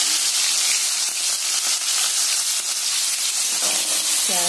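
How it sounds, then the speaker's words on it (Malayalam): Vegetable noodles with carrot and beans sautéing in hot oil give a steady, loud sizzling hiss that runs throughout, with a few brief clinks near the end. "എണ്ണയിൽ വഴറ്റി നോക്കി"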